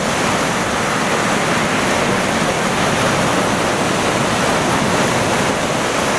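Surf breaks steadily onto a gravel beach at low tide at Patiti Point, Timaru, a loud, continuous broadband roar of crashing water and rushing wash with no pause or voices.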